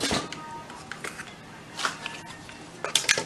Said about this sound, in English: Just get my wooden spoon here.